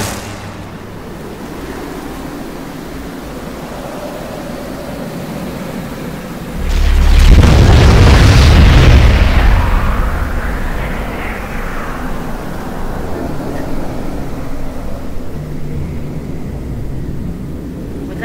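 A fusion bomb detonates in the video game Garry's Mod: after a quiet ambient hum, a sudden heavy boom breaks out into a deep, loud rumble for a few seconds, then fades to a lingering low drone.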